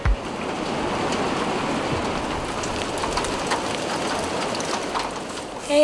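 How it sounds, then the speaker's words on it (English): Steady rain falls outside a cabin in the woods in winter, a dense, even hiss of drops hitting surfaces that holds unchanged for the whole stretch, with no voices. "Hey, what do you know? It's still raining."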